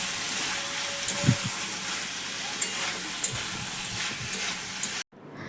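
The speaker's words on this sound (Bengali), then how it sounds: "কাঁঠালটা এখন দিয়ে দিচ্ছি, মশলাটা প্রায় ভাজা হয়ে গেছে" Jackfruit frying with spice paste in a pan sizzles steadily, broken by a few spoon scrapes and light knocks, then stops abruptly.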